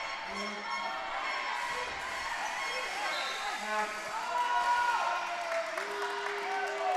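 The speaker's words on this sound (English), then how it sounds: "Chanting Olay, singing Olay." Futsal crowd in an indoor arena chanting Olé in a rising, sustained sing-song, a big mass of voices filling the space with a commentator talking over it.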